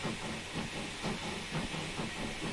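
A GER T26 steam locomotive in Train Simulator 2020 gives off a loud, continuous steam hiss with faint rhythmic chuffing beneath it, and no voices.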